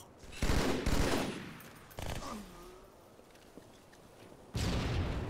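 Bursts of rapid gunfire from a Halo 2 Team Slayer match on Lockout: two loud clustered volleys open, a shorter burst follows, then a quieter stretch before another heavy burst at the end.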